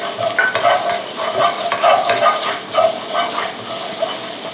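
Chopped garlic stir-fried in oil left over from frying salted fish, for salted-fish spaghetti: a steady, close sizzle with soft scraping and stirring clatter throughout, no voices.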